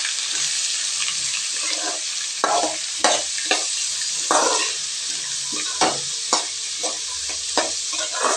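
Onions and curry leaves sauté in a hot pan, a continuous sizzle punctuated by repeated scraping stirs of the spatula at an uneven rhythm, close and alone.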